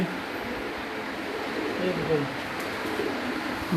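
Soft, low cooing of a female pigeon from Dubai sounds close by over a steady background hum, with a few repeated throaty calls.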